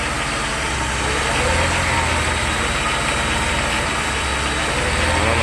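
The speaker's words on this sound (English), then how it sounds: "the engine starts shaking" A Mercedes 300SE W126 engine with a defective MAS module idles steadily at close range, a constant low rumble with a slight rough vibration and shaking running throughout.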